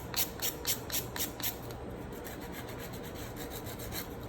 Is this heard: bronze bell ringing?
no